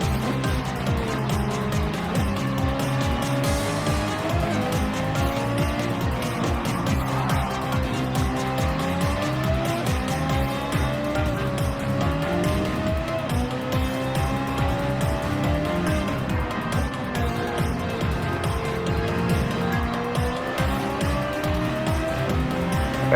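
A Ferrari F430 and a Porsche Cayman race on track, their engines droning continuously as revs climb and drop through gear changes, with occasional tire squeal in close, loud wheel-to-wheel running.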